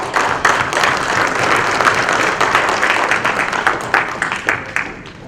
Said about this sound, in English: Let's give a warm round of applause and welcome